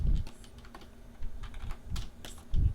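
Keyboard typing during digital comic inking work, a run of soft clustered key clicks with a few heavier thumps, close and fairly quiet, with no talking over it.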